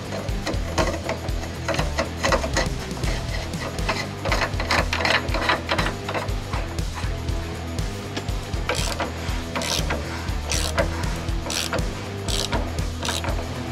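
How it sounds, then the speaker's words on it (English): A billet filter cap on an L5P Duramax FASS drop-in fuel system being tightened with a 36 mm socket, giving a steady run of close ratcheting clicks and mechanical creaks with no talk. "And now when we tighten this, you'll be using a 36 millimeter socket."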